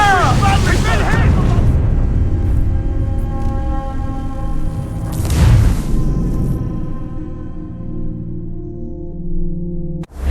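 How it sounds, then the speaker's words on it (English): Cannon fire on a sailing ship in Assassin's Creed IV Black Flag, deep booming blasts under shouted voices, with one heavy close impact midway and a rumbling tail. "Fire! Incoming fire!"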